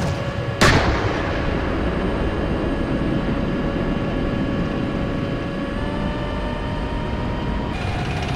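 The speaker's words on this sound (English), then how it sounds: "We're taking fire here." One loud, sharp cannon blast near the start in the Steel Beasts tank simulator, followed by a steady tonal rumble of vehicle engines that drones on without further shots.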